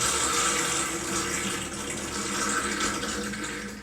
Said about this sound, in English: That is the sound of the sink.